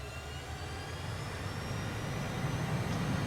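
Steady jet roar of a DC Designs Harrier hovering in a flight simulator with nozzles vectored down and flaps deployed, a constant whooshing engine drone that swells slightly louder toward the end.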